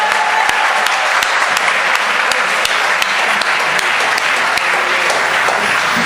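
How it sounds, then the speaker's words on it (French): A church congregation claps and cheers steadily, a loud, sustained wash of applause from a crowd with sharp individual claps standing out. "On peut acclamer très fort le Seigneur."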